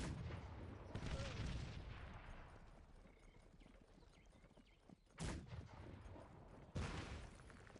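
Cannons firing in Cossacks 3, heavy booming volleys of a battery of eight guns rolling over battle noise, with fresh loud shots bursting out near the end.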